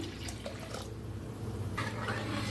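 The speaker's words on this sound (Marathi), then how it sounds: "ह्याच्यात ओतूया पाणी." Water pours steadily into a pot of cooked dal with a soft, continuous splashing, faint and close, with no talking.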